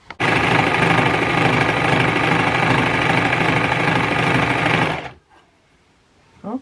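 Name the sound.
overlocker serging pyjama bottoms seam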